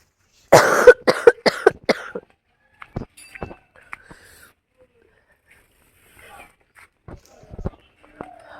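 A person coughs in a quick burst of several sharp, close coughs on a cold, foggy winter morning in a village, followed by quieter scattered knocks and faint sounds.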